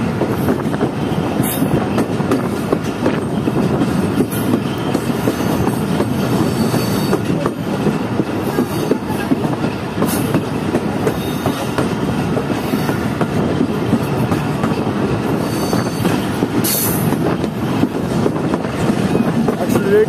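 Mohen Jo Daro Express running at speed between Kotri and Rohri, a continuous loud onboard roar of wheels on rail with faint clatter and occasional squeals, no voices standing out.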